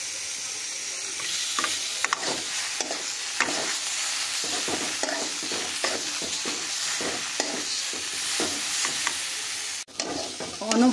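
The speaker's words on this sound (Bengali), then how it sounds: "অনবরত নাড়াচাড়া করে করে পুরো জলটা শুকিয়ে নিয়েছি।" A spoon scrapes and stirs mashed taro (kochu) in a frying pan, a steady rhythmic stirring over a constant sizzle, close and fairly loud, with no talking.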